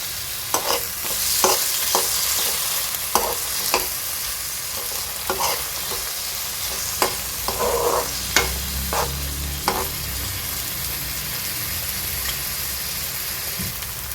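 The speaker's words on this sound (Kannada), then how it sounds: "ಸ್ವಲ್ಪ ಟೊಮೆಟೊನು ಹಾಗೆ ರೋಸ್ಟ್ ಮಾಡಬೇಕು." Tomatoes roasting in a pan for palak paneer, loud continuous sizzling with a rain-like crackle, punctuated by regular spatula taps and scrapes against the pan, no talking.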